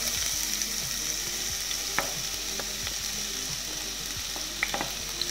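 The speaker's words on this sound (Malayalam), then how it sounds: "ചൂടായിട്ടുണ്ട് ഇതിലേക്ക് നമ്മൾ അരിഞ്ഞു വെച്ചിരുന്ന സവാള ചേർത്ത് കൊടുക്കാം" Sliced onions fry in hot coconut oil with a steady, dense sizzle, broken by a few faint clicks and pops, with no voices.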